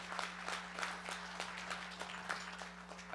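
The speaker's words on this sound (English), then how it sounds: "give Nanish, his wife Susan, and their entire family a grand applause for all of their generosity" Gala dinner guests give a donor family a round of applause: quiet, fairly sparse clapping from a modest crowd, with distinct individual claps over a steady low hum throughout.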